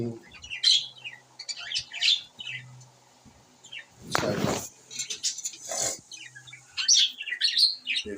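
Pet finches in a growing home colony, chirping and squawking in short bursts, with a loud rustling flutter partway through and a quiet background hum.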